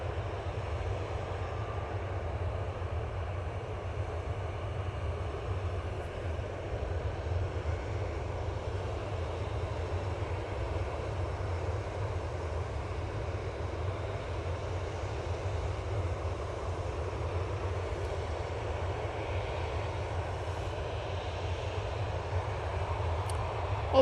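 Airbus A320ceo airliner engines at an airport produce a steady, low droning rumble with a faint hiss above it, holding evenly and unbroken at moderate distance without any voices.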